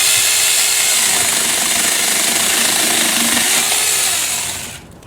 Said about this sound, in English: let's see how this little baby China chainsaw 4-inch will do is zipping that off.